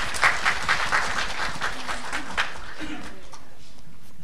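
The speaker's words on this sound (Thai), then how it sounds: "สุดยอดมากปรบมือค่ะ" Applause from a seminar audience at a Thai business showcase on SMEs going public, a dense burst of clapping that thins out and fades away after a few seconds, with speech mixed in.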